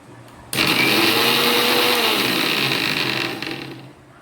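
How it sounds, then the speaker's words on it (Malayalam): A mixie blender whips homemade mayonnaise, its motor starting abruptly and holding a loud, steady, high whine for about three seconds before tapering off, with no voices. "നമുക്കിനി ഇതൊന്നും കൂടി അടിച്ചു നോക്കാം. അപ്പോൾ നമുക്ക് കുറച്ചും കൂടി ഹാർഡായിട്ട് കിട്ടും."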